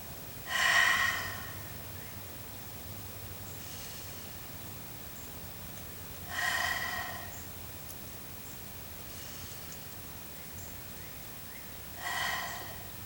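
Deep breaths during a daily energy breathing routine, three strong, close exhalations spaced about six seconds apart, with quiet in between.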